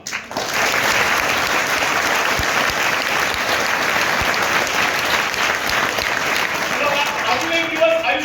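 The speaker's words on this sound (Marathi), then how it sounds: "म्हणून टाळ्या वाजवा" Audience at a school performance of a one-man play breaks into loud, sustained applause that fills the hall from start to finish, a dense wash of clapping hands.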